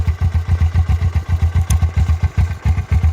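A Suzuki GS 500 motorcycle with a standard exhaust pipe idles low, giving a deep, close, steady series of rhythmic exhaust pulses.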